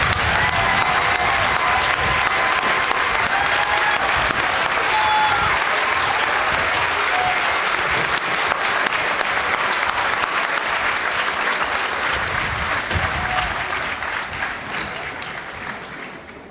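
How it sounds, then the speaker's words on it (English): A large outdoor crowd at a military basic combat training graduation applauds veterans in sustained, dense clapping with scattered cheers. The applause stays loud for about fourteen seconds and then gradually tapers off. "please join me in a round of applause for these heroes"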